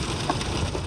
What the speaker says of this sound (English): And it's literally hailing outside.